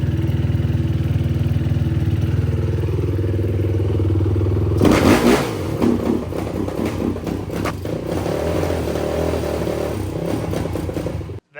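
A cheap used racing wheeler motorcycle that badly needs rejetting runs roughly, with a loud, uneven engine drone up close, then sputtering and clattering as the revs rise and fall, before it cuts off abruptly.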